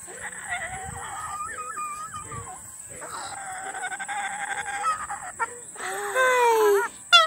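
A pet bird at an animal park gives strained, wheezy calls that sound pained, in repeated short cries that rise to louder, longer squawks near the end, with faint background noise.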